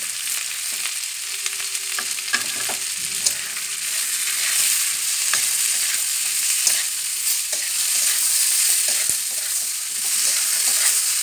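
Onions, peas, tomatoes and turmeric frying together in a pan for a simple potato-pea curry, giving a constant bright sizzle and hiss with scattered scrapes as a utensil stirs the mixture, close up and without speech.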